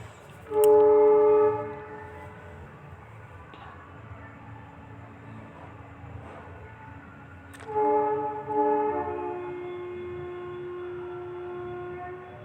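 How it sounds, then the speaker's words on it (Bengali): A train sounds a loud sustained horn near a station platform on a winter day, heard from a distance, then falls quiet with a low rumble before a second horn blast follows and a steady tone lingers. "দেখেছো কীরকম ট্রেনের আওয়াজ হচ্ছে আমার এখান থেকে প্ল্যাটফর্মের আওয়াজ শোনা যায়"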